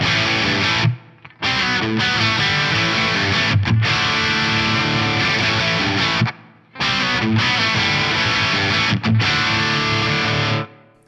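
Crunchy, overdriven electric guitar playing chords through an amp, loud and continuous with a few brief pauses between phrases.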